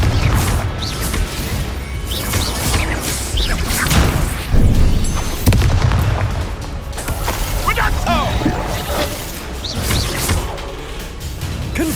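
Confringo fire spells in the Hogwarts Legacy video game erupt in repeated crashing explosions and whooshes through a busy, loud battle, with a voice shouting over the chaos.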